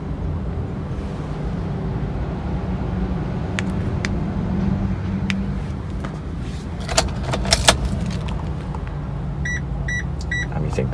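Confirmation beeps from a Chery Tiggo3 car while its remote key is programmed, a few short high electronic chirps near the end over a steady low cabin hum, with brief key and click noises before them.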